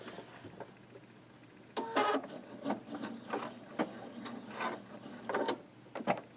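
Sewing machine stitching a quarter-inch seam on a Lemoyne Star quilt block, faint whirring bursts of needle strokes with short pauses between them.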